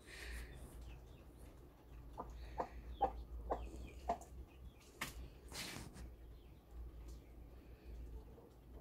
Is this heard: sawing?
no